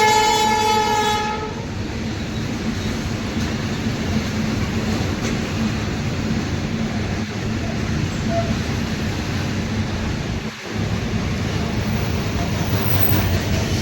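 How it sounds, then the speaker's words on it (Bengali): An Indian Railways goods train rolls past close by, a horn blast at the start followed by a steady loud rumble of wagons and wheel clatter, with no one speaking. "ইন্ডিয়ান রেলওয়েজের একটা গাড়ি বেরিয়ে গেল"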